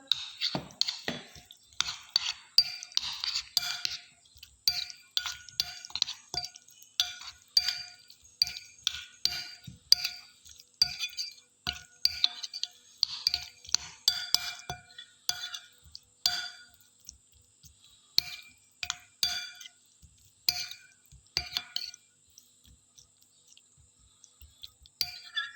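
Spices and food colour being mixed into beef for tikka boti in a bowl, giving a long run of light, irregular clinks and scrapes, close and fairly quiet, with brief pauses between strokes.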